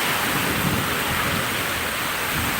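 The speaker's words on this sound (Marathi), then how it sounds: "खूप जोरात पाऊस आहे" Heavy rain pours down in a dense, steady roar, loud and close, with no voices and no breaks.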